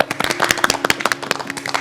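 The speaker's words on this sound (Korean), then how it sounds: "박수 부탁드립니다." A television studio audience on the morning show claps in a brisk, dense burst of applause, close and bright, with no talking over it.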